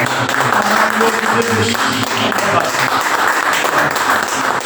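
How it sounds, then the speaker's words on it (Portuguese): A church congregation claps during worship, a continuous loud patter of many hands under a voice, with faint tones of music in the background. "Oh, aleluias, aplaudo o Senhor. Aplaudo Ele."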